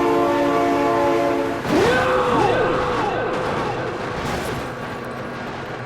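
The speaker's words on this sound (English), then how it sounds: "Oh my god, train!" Video-game train in BeamNG rushing past with its horn blaring in rising and falling blasts over a loud steady rumble of rolling wagons, close and dominant throughout.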